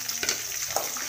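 A brief burst of curry leaves frying in oil, a bright crackling sizzle with a few small pops, close and moderately loud, with no talking.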